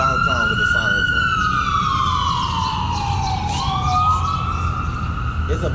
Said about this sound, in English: he's just driving around downtown with the sirens on